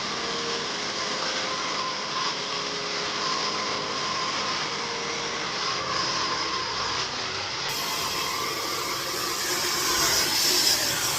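Steady, loud broadband blowing roar of a hair dryer in a hair salon, continuous and close, with a slight rise in intensity near the end.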